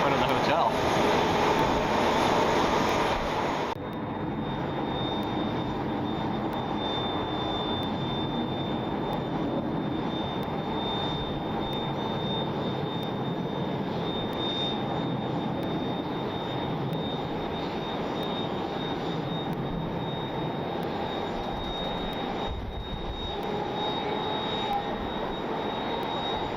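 Jet airliner engines roar steadily at Atlanta Hartsfield-Jackson Airport, a loud continuous broadband rumble with a sustained high whine, louder for the first few seconds then holding level throughout.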